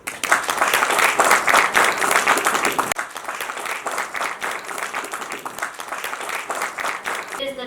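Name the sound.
audience applause at school women's day event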